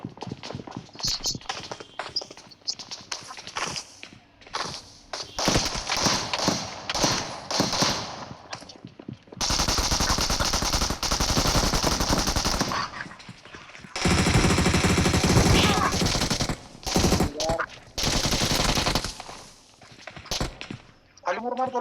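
Gunfire in a battle royale video game: bursts of rapid automatic fire and single shots, loud and close, broken by pauses, with excited players talking over the shooting.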